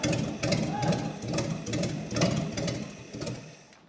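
An 87-year-old vintage hot rod engine idles with an uneven, loping rhythm, a close, rough chugging that pulses roughly every half second and then fades out at the end.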